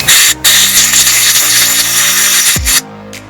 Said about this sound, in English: we can use an air gun to blow down there